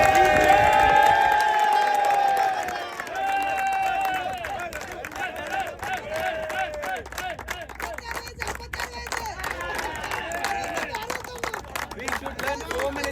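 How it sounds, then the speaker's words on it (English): A crowd claps and cheers for a player at a cricket trophy ceremony after the SPL Season 10 grand final, with dense, steady applause and excited crowd babble filling the space throughout. "So please give me a round of applause to Mardana."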